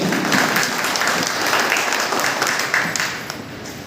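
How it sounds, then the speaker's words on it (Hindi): Loud applause from a crowd, dense clapping that holds steady and then begins to thin out toward the end. "एक बार जोरदार ताली बजाइए"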